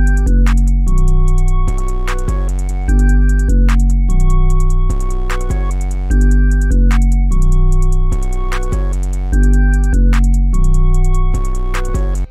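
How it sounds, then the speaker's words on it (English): Full drum section of an FL Studio trap beat remake: looping 808 bass with kicks, snappy snares and ticking hi-hats, joined by a bright bell-like tone, steady and loud throughout. "yeah, that's all the drums, so all the drums sound like this together."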